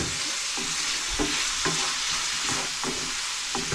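Garlic sautés in a pan for shakshuka over moderate heat, a steady hiss broken by regular scraping stirs roughly every half second, close and fairly loud with no talking.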